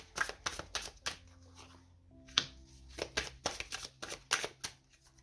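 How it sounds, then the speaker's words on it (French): Tarot cards are shuffled and laid out one by one, making quiet, close flicks and soft taps in an irregular series with short pauses between them. "On va commencer à poser le tarot."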